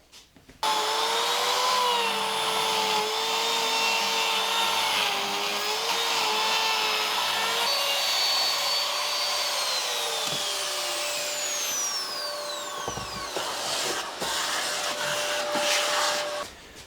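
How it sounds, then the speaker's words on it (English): Electric router whining loudly and steadily as it cuts out a hybrid Les Paul guitar body, pitch shifting slightly under load before spinning down near the end. "let's go and router this out quickly with Le Router"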